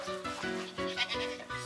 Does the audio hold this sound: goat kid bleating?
yes